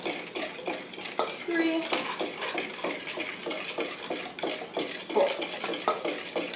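A wire whisk beats eggs in a bowl for crème brûlée, clattering in a quick steady rhythm close by, with brief counting voices over it.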